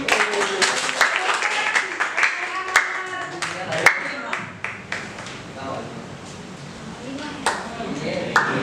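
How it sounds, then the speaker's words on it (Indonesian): A small group claps for a student's answer during a teachers' training session at MTsN 39 Jakarta, scattered close hand claps with an uneven rhythm, moderately loud, running for several seconds before thinning out. "tepuk tangan untuk jawabannya."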